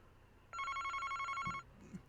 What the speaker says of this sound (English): the phone rang at Utsugi Detective Agency